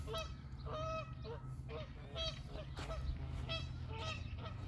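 Geese honk repeatedly from high overhead, a faint distant series of rhythmic honks over a low steady background rumble, with no talking.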